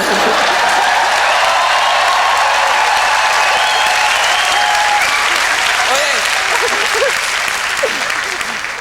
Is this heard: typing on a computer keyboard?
no